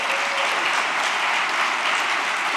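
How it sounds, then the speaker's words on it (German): Dense, continuous applause from a crowd at a Lower Saxony state prize award ceremony, loud and steady throughout with no pauses. "noch einen extra Applaus verdient"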